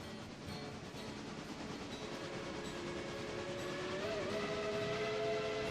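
Steam locomotive whistle on a modded logging engine in the Railroader game, a thin tone rising and wavering over steady rumbling train noise, moderately loud and continuous.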